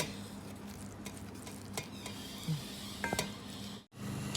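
Hot cooked rice being mixed with Thai shrimp paste chili dip, giving soft, quiet squishing and stirring with a few light clicks of a utensil against a dish, close by and without talk.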